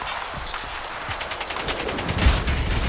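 Gunfire in Crysis 3 multiplayer as someone shoots at the player: rapid automatic bursts mixed with single shots, moderately loud, with a heavier impact near the end.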